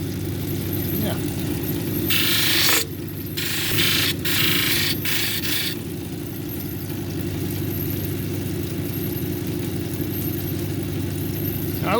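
Grinding wheel shaping a green zebra jasper cabochon, a steady motor drone running throughout with a brighter hiss of stone contact in bursts during the first half, fading to the plain whirring motor later.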